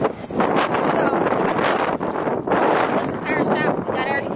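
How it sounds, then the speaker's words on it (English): Strong wind buffets the microphone outdoors near a tire shop, a loud continuous rushing roar with gusty swells and no clear pauses. "It's so windy."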